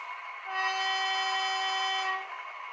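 Accurascale Class 31 model locomotive sounding its low-tone horn: one steady, sustained blast of about two seconds, clear and alone, swelling in and tailing off.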